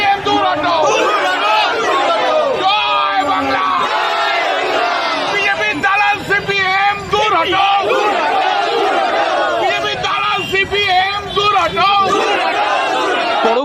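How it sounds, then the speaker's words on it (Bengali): Political party workers from the CPIM and TMC, facing off before the Lok Sabha election, chant slogans loudly and continuously as a shouting crowd, with many voices overlapping in rhythmic calls that never let up. "পাল্টা স্লোগানের সুর চড়ে সিপিআইএম পক্ষ থেকেও।"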